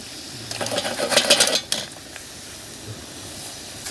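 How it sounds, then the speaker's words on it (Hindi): Masala spices roast in a pan over a campfire at a night campsite. A soft sizzle runs under a short cluster of loud metal scrapes and clinks from stirring, which then settle into quieter frying. "तो भाई ये देखो क्या बढ़िया अपना मसाला यहाँ पे भुन रहा है ना।"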